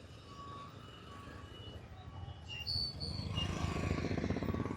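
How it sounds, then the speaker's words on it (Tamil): Vehicles move along a busy dirt road to the Nagathambiran temple in Puthur, Jaffna, with trucks rumbling past, engine noise building and growing louder toward the end, and faint tonal beeps above the traffic. "வாகனம் இப்படி போய்கொண்டிருக்கணும் பாருங்க"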